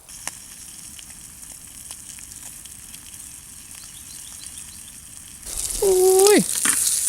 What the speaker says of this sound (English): Just a little bit of bacon and eggs and nature.